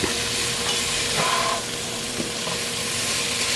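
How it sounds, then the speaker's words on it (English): Chopped cabbage for a smoked sausage cabbage soup cooks in a pot, giving a steady, loud sizzling hiss throughout with faint stirring clinks and no talking. "We're going to let this cabbage cook"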